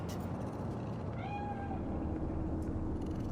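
A cat meows once in the video game Cyberpunk 2077, a single clear drawn-out meow over a steady background ambience of city hum.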